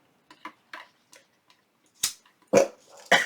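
A dog lets out a few sharp barks near the end, preceded by light clicking and ticking sounds in a quiet room.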